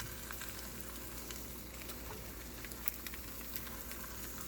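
Mutton and pork burger patty frying in a dry, unoiled pan, a steady close sizzle with scattered crackles and pops running throughout.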